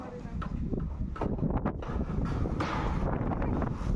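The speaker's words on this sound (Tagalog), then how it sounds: "Ayan, mahangin." Gusty wind buffets the microphone in uneven rumbling bursts, with occasional voices and clattering sounds mixed in.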